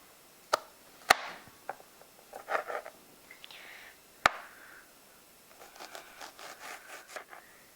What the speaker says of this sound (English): Now I'm just carefully but roughly chopping the shallots.